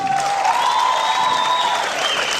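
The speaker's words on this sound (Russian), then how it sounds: "Спасибо за эти жидкие аплодисменты." A student stage show audience at a university spring festival applauds in a steady wash of clapping, with tonal whistles or a voice carrying over it, fairly loud and unbroken.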